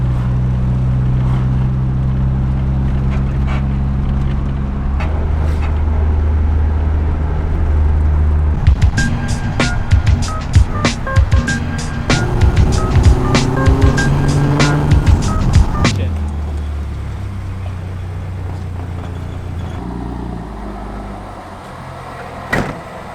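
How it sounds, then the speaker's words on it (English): A Nissan S13 with a KA engine and deleted exhaust rumbles low, then revs hard with a crackling, popping exhaust note before settling back to a steady drone. "It's definitely a lot louder, like the exhaust note, since deleting everything."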